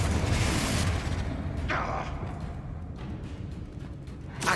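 A Confringo blasting spell goes off in Hogwarts Legacy with a heavy boom at the start that decays into a fading rumble, and a fresh burst rises right at the end.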